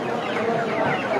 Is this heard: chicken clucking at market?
yes